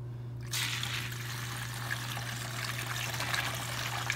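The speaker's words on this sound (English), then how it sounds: "And now, I'm going to Add quite a bit of water." Water poured steadily into a container holding a jumbo water bead balloon mix, a close, continuous trickling splash that begins after a brief quiet moment and runs without talk.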